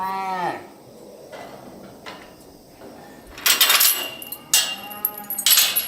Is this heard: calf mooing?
yes